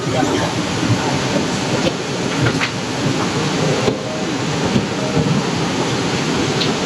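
Heavy rain falling steadily at a waterfall campsite, a dense, loud, continuous roar with no pauses throughout.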